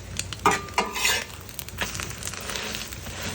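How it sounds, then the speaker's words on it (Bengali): Bitter gourd frying in mustard oil in a pan, light sizzle beneath sharp utensil clinks and scrapes near the start, then a softer steady crackle, no talking. "ডিপটা কিন্তু আমি সরিষার তেলে ভাজতেছি"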